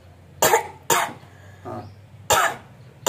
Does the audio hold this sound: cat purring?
no